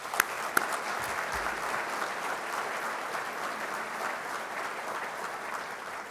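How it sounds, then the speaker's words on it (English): A roomful of people at an aviation hall of fame induction applauding their airport executives and leaders, a sustained even wash of clapping that opens with a couple of sharper close claps and carries on without talk. "I would like to ask for a round of applause for our airport executives and leaders in this room."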